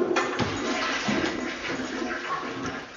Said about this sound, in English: Did he open the door before flushing the toilet?